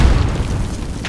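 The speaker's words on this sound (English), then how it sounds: "I'm grenading him." A grenade explosion in the game Call of Duty: Modern Warfare 2 during a 2v2 match, heard as a single loud, close, low boom that rumbles briefly.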